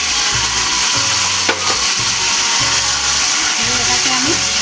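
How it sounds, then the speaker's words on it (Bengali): Boiled taro leaves going into a pan of frying ginger, a loud close sizzle with stirring and scraping, an irregular low rumble running under it. "আদাটা একটু ভাজা ভাজা হয়ে গেল, এবার আমি দেব সিদ্ধ করা কচু শাকটা।"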